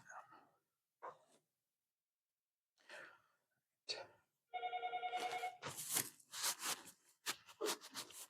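A telephone in a classroom rings once with a short, bright electronic trill, preceded by scattered soft breaths and sounds and followed by louder rustling and a voice.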